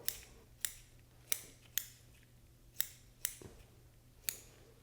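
Scissors snip repeatedly through fat and meat on wood duck skin during skinning, sharp close clicks coming about every half second over a quiet background.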